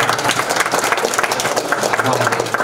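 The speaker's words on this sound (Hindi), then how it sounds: "ताली बजाओ, ताली बजाओ जोरदार।" A crowd applauds loudly and steadily at an ashram gathering in Banthra, Lucknow, with dense clapping filling the whole stretch and some voices mixed in.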